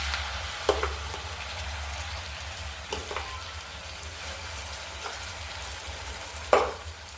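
Tomato puree goes into a hot frying pan for a tomato egg curry, with a soft continuous sizzle broken by a few sharp spoon or pan clacks and brief bursts of frying.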